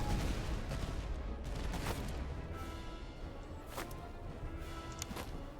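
Fusiliers fire muskets in a video game battle, with a scattering of distant gunshots crackling over a steady dense battlefield rumble, several sharper reports standing out near the end.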